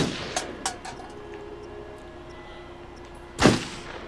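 A single loud pistol gunshot in a video game cracks out near the end with a sharp, booming burst, preceded by a couple of small clicks and a quiet low hum.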